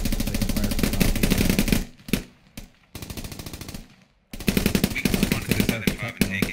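Rapid automatic gunfire in the tactical shooter Squad crackles in dense bursts near the player, with short pauses between volleys.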